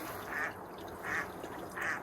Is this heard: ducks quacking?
yes